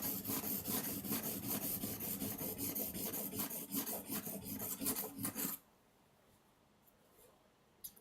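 A file rasps rapidly over metal to take a burr off the back of an edge, with quick repeated strokes close by for about five seconds before falling to near quiet.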